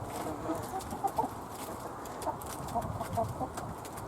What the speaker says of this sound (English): Chickens digging into that cabbage.